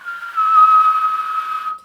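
A voice whistles a single sustained pure tone, imitating the ringing resonance of a high-pass filter, rising in at the start and holding steady for nearly two seconds before stopping.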